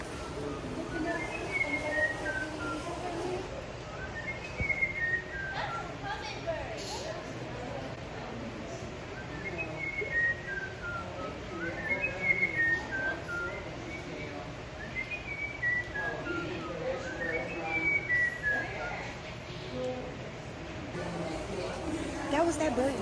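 A bird at Audubon Park zoo in New Orleans whistles in repeated short falling phrases, several evenly spaced calls a few seconds apart, heard at moderate distance over steady outdoor background noise and murmured voices.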